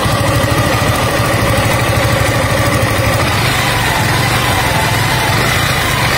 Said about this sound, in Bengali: সাউন্ডটা আপনারাও শোনেন 5100 কিলোমিটার চালানোর পর ইঞ্জিনের কি অবস্থা।